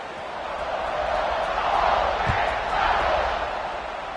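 Football stadium crowd roaring steadily at kickoff, a broad, loud swell of many distant voices that rises and falls with no commentary over it.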